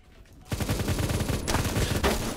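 Rapid bursts of MG3KWS machine gun fire in the Roblox shooter Phantom Forces, a fast continuous rattle of shots starting after a brief quiet lead-in, loud and close with short pauses between bursts.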